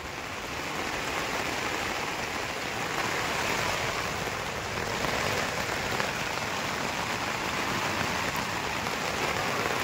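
Heavy rain pours down steadily over an outdoor tarp shelter, a dense, unbroken hiss that stays loud and even throughout with no voices.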